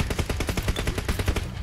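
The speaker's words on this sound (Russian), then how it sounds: "Слева стрельба" Rapid automatic gunfire in an online shooter game rattles in steady bursts, loud and continuous, with no talk over it.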